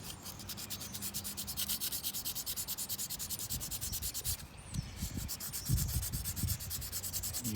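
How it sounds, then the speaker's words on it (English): Carved stone being wet sanded by hand with sandpaper, close rhythmic back-and-forth rubbing strokes, steady and fairly soft, pausing briefly midway before resuming with some heavier scrubs, no talk. "that's another benefit of wet sanding. When the paper is all wet, it washes away some of that dust"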